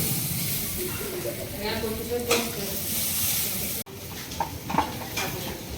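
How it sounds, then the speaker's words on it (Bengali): Food sizzles and crackles in a frying pan at home during the Bengali Arandhan festival cooking, with steady frying hiss, occasional stirring scrapes and voices talking in the background. "এখানে ভাজাভুজিটা শুরু হয়ে গেছে"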